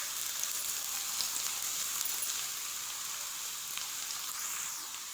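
Whole green chillies, four of them, sizzle in hot oil for chana dal keema, giving a steady, even crackling hiss that runs loud and unbroken throughout with no talking.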